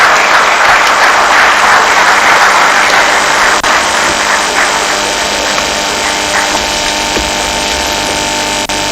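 An audience at an award ceremony and lecture gives a sustained, loud round of applause, dense, unbroken clapping filling the hall for the whole stretch, with no talking over it.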